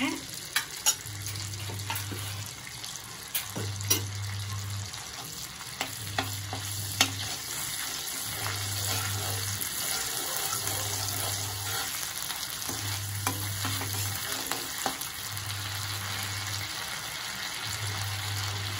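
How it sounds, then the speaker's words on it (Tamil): Ginger garlic paste frying in a pan for paneer butter masala, a steady close sizzle with faint stirring scrapes and clinks, under a low hum that pulses on and off at a regular interval. "இஞ்சி பூண்டு பேஸ்ட் போட்டுடலாங்க"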